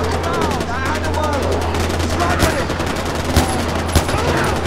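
Rapid, regular bursts of gunfire from a gun in Far Cry 4 ring out close and loud, a steady stream of shots with a few sharper cracks mixed into the clatter.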